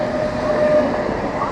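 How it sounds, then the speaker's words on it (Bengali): A Krishnanagar City train rolls past steadily, a continuous close rumble of wheels and carriages with a faint whine, no clear breaks across the short stretch. "ট্রেন যাচ্ছে দেখো, কৃষ্ণনগর সিটি।"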